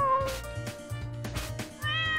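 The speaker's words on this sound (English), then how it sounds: "I have a special button to meow." A cartoon cat meows repeatedly in the Carlateral Damage video game, several bright, tonal meows over a bouncy game music bed, with a final higher meow at the end.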